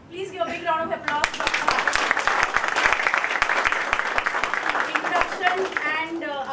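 Audience at an incubation and innovation event bursts into a round of applause, many hands clapping in a steady, lively stream between bits of a speaking voice at the start and end.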